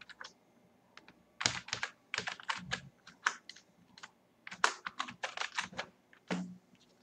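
A root password being typed on a computer keyboard while installing Red Hat Enterprise Linux 7: quick, crisp key clicks in irregular bursts with short pauses between them, close and quiet, with no talking.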